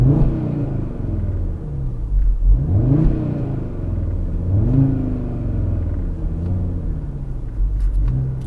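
An Audi RS Q3 Sportback engine heard from inside the cabin, a deep steady rumble with rising revs and gear-change sweeps under the road noise.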